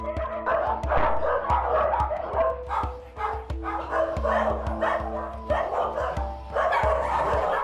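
Several dogs barking inside an animal hoarder's house, with loud, overlapping barks and yips coming in quick bursts. The barking is close and nearly continuous, with short pauses.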